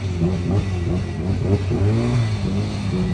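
High-horsepower drag car on street tires revving at Bandimere Speedway, a loud rumbling engine with wavering pitch as the throttle blips, steady and fairly close for a few seconds.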